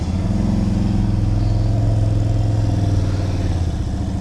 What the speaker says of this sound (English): That actually sounds a little bit beefier than what you would expect from a 125, the much lower pitch noise